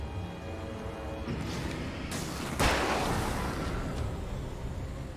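Gunfire from the video game Alan Wake: two sharp, noisy shots land about half a second apart over a dark ambient game background.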